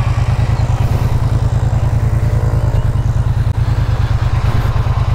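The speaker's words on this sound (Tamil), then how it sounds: "வண்டியோட ஸ்டாக் எக்ஸாஸ்ட் இது. இப்போ ஐலிங்கில் எப்படி இருக்குது பாருங்கள். நான் லைட்டாக ரெவ் பண்ணுறேன்" Stock exhaust of a Triumph Bonneville T120 motorcycle idling close by, a steady, loud, even low thump with no rev rise evident, running alone throughout.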